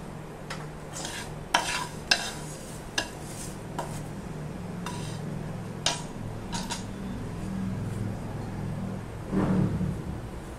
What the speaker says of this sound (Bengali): সিমুইটা দেওয়ার পর আমি খুব ভালো করে নেড়ে নিচ্ছি দুধটার সাথে সিমুইটা